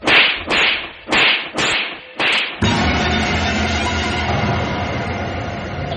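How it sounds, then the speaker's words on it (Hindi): Five sharp slap sound effects in quick succession, evenly spaced and loud, followed by a sustained rumbling dark ambience in a haunted house hall. "किसी ने उसे 4-5 थप्पड़ मारे।"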